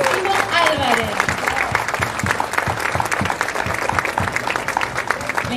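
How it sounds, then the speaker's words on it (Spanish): Audience applause at a disability awareness day event, dense continuous clapping from a crowd running throughout with a voice speaking over it. "Por favor, un fuerte aplauso para él."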